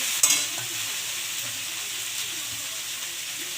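Carrots and potatoes fry in a pan with a steady, close sizzle, and a brief clatter of stirring comes near the start.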